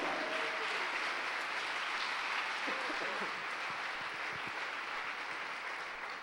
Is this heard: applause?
yes